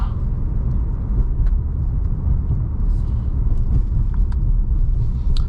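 Inside a 2021 Nardo Grey F90 BMW M5 Competition cruising gently at legal speeds, a steady low engine and road rumble fills the cabin, smooth and unchanging with only faint small clicks above it.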